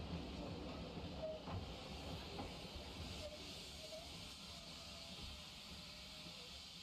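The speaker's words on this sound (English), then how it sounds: "Here, number 4160 waits for a passing DMU." A diesel multiple unit train passes a waiting steam locomotive at a heritage railway station, giving a steady rumble and hiss that stays moderately distant throughout, with faint clicks of wheels on track.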